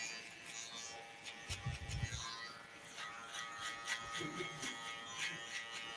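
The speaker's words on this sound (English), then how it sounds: "just go back in with my cordless detailer LI and just cleaning up a little bit more" A cordless hair detailer trimmer buzzes in short bursts during a barbering touch-up, cleaning up a haircut line without cutting a new guideline. The buzz is fairly faint and intermittent against room noise.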